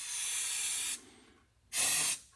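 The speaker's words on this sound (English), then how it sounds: "let's just spray this off a little bit, you know. Get all the residue off there." Cleaner sprayed over a car engine to wash off residue, two bursts of sharp, close hissing spray, the first nearly a second long, then a short pause and a second burst.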